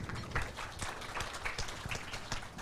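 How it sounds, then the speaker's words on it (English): An audience at a diplomatic forum in Indonesia gives a round of applause, a fairly faint, steady patter of many hands with individual claps audible throughout and no voices over it. "Give it a applause."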